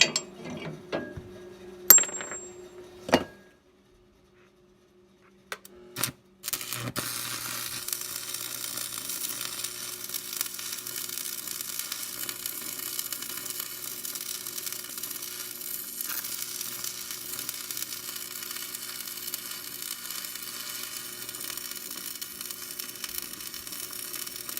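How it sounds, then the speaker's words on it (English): Welding a bracket onto a Massey 50 tractor's front dozer blade: a few metallic clanks and a short silence give way to a long, steady crackling sizzle of the arc, close and continuous, with no talking. "So I'm going to remove the cylinder and we'll start welding."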